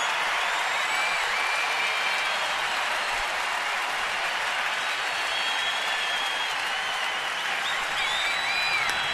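Dense stadium crowd cheering and roaring loudly and steadily throughout, with a few whistles rising above the noise, at a Marlins at Nationals baseball game.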